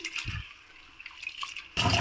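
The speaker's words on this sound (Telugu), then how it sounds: "దీనికి ఒక వాటర్ వేసుకుందాము పొట్టు తీయడం కోసం" Water is poured onto soaked urad dal (black gram) in a bowl to loosen the husks, with a brief splash early on, a quieter stretch, then a louder, close gush of pouring water at the end.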